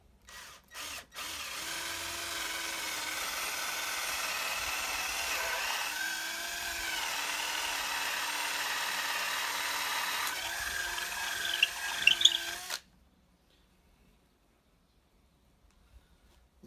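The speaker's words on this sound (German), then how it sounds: "Jetzt müssen sie bloß noch gebohrt werden." A power drill bores holes in sawn wooden parts for raised beds. After a few short bursts it settles into a long, steady whirring run whose pitch shifts slightly as the bit works through the wood. It ends abruptly in near silence.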